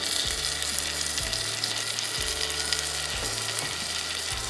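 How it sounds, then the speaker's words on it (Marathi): Onion paste frying in a pan until brownish, with a loud, continuous close sizzle and occasional scraping stirs, no voices. "इथे मी कांद्याला थोडंसं हे ब्राउनिश होऊ द्यायचं"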